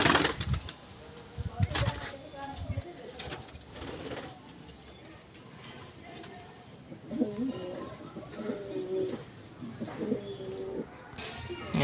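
An old pigeon coos in a home loft, repeated throaty calls coming close and clear in the second half, after some earlier rustling and wing movement.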